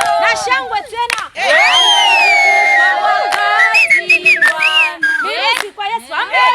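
A church crowd at a fasting prayer gathering on Mount Zion in Arusha cheers loudly with whistling and ululation, sustained and energetic, with voices shouting throughout.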